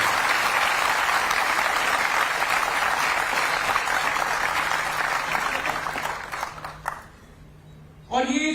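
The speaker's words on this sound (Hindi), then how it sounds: "मैं तालियों की गड़गड़ाहट से उनका हम स्वागत करता हूं।" An audience at an agricultural university event in Gwalior gives a long, dense round of applause welcoming the Vice President, steady and loud before tapering off and dying away near the end.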